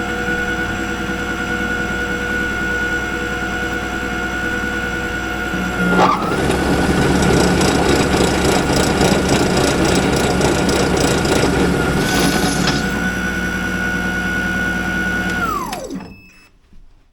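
A Toro e26 electric two-stage snowblower runs its auger and impeller with a loud, steady motor whine. The machine grows rougher and louder midway, then spins down to a stop at the end.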